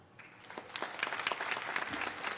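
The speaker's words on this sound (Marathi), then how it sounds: "टाळ्या नका वाजू" A kirtan audience claps together in a burst of applause. It starts softly and swells into a dense, continuous patter of many hands at moderate distance.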